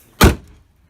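Hood of a 2001 Ford Taurus slammed shut once, a single loud close thud with a short metallic ring that fades quickly into quiet.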